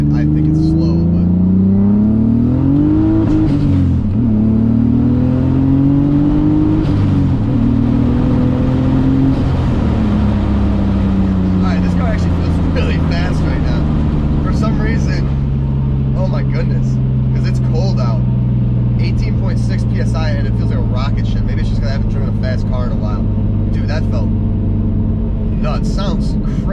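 Turbocharged BMW M50 straight-six pulling hard, its engine note climbing loud and close through repeated acceleration runs with falling shifts in between, wind noise from open windows and occasional talk over the top.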